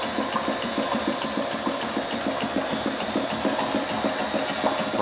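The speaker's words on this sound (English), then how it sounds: "The pump is running at 200 RPM." A Mouvex C24 pump runs at 200 RPM while self-priming, giving a steady mechanical drone with a fast rhythmic ticking pulse and a constant high whine, close and unbroken.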